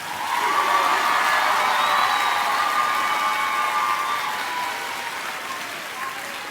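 A large crowd applauds students at a high school graduation, a dense wash of clapping with scattered cheers that gradually softens toward the end.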